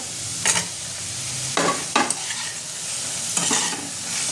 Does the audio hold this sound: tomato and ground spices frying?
yes